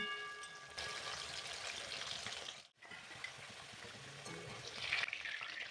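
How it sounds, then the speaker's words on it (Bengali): Potatoes seasoned with turmeric and salt fry in oil until light golden brown, a steady broadband sizzle running throughout with a brief drop in the middle, moderately loud and with no voices. "এটাকে হালকা গোল্ডেন ব্রাউন করে ভেজে আমরা তুলে নেব।"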